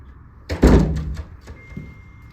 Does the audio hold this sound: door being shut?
yes